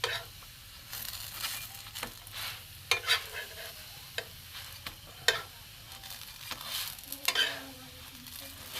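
Spatula pressing and rolling potato rolls in a frying pan, giving soft scraping strokes and light crackles over a steady low sizzle, with several sharper taps and clicks close by.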